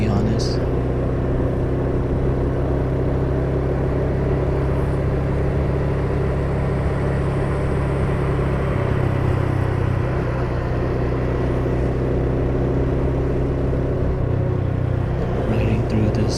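A motorcycle cruises through a construction area in the evening, its engine droning in a low, steady rumble with wind noise, loud and continuous, with slight shifts in pitch along the way.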